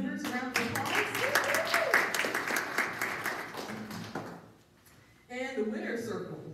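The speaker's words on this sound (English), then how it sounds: "let's give all of our new members a round of applause." Audience applause for new members at a veteran-owned business gathering, several seconds of brisk close clapping that fades, then a short renewed burst.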